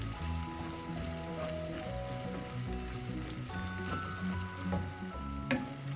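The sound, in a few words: chilli and turmeric powder frying in oil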